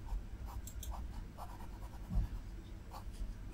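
Pen scratching on paper while an inductor schematic symbol is drawn, soft intermittent strokes and short scrapes close by, quiet and without speech.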